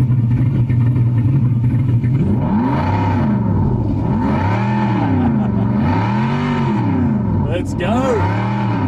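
Simulated big throaty V8 from a SoundRacer gadget through a car stereo, rising and falling in repeated revving sweeps over a steady low drone, loud and close.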